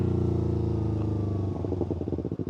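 A motorcycle with a loud KO Lightning aftermarket exhaust rumbles close by, a deep steady throb that turns into choppy, popping pulses as the engine note changes.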